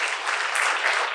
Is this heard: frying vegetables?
no